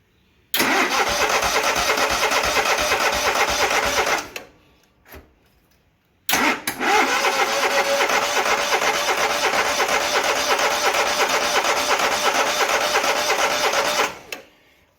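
A Grazer G2297K engine with the choke on cranks and catches in a long, loud, steady burst, falls silent briefly, then cranks again for another sustained run before cutting off.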